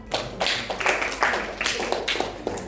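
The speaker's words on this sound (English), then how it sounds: "give applause to Himala" Classroom applause for a student during a microteaching lesson, a brief burst of scattered hand claps at moderate loudness with faint room murmur.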